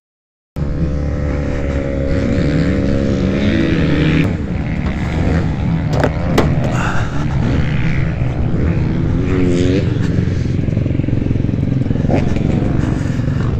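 A new Honda CRF450R motocross bike runs on a track. The engine drones loud and steady the whole time, with occasional revving swells, close and alone.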